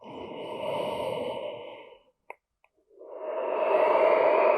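Slow, deep breaths during seated breathwork practice on a chair: a long, airy exhale, a brief pause with a couple of tiny clicks, then another full breath swelling in, close and steady with no talking.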